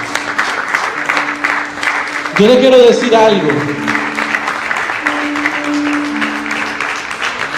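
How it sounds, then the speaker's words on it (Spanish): Church congregation applauding after a sermon, a broad wash of clapping that swells midway while a voice speaks over it and continues talking. "Dale un fuerte aplauso a Dios"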